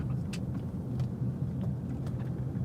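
A car driving along in Ottumwa, Iowa, a steady low rumble of engine and road noise close by, continuous throughout with no talk over it.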